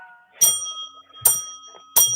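A small hand bell gives three bright, ringing strikes roughly evenly spaced, each with a sharp onset and a short shimmering decay, close and clear.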